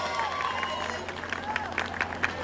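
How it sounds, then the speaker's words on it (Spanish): Crowd applause and cheering at a live stage show with Wendy Marisol and Chis Soltero alongside El Tren de Zacatecas, steady clapping with scattered shouts and sharp peaks, moderately loud throughout with a low hum underneath. "Y el aplauso no lo escucho para Wendy Marisol y Chis Soltero."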